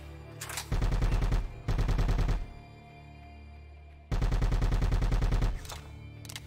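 Automatic gunfire in the Bad Boys: Miami Takedown video game, loud rapid bursts of about a second each, separated by a quiet gap and a humming lull, close and with no talking.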